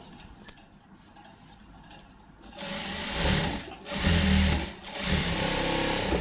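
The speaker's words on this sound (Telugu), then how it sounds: "ఇంకొకటి ఇటు సైడ్ కుట్టేసామంటే కంప్లీట్ అయిపోతుంది మన శారీకి లేస్ వేసే ప్రాసెస్ అయితే" Sewing machine stitching lace onto a saree, starting quietly with light clicks, then running steadily and loudly in short pulsing bursts, no talking.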